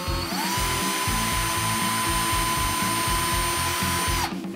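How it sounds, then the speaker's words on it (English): Cordless power drill boring small pilot holes for screws during a motorcycle ignition relocation dash install, a high whining motor spinning up and running steadily under rhythmic low grinding pulses for about four seconds before stopping, close and alone. "Drill a small hole."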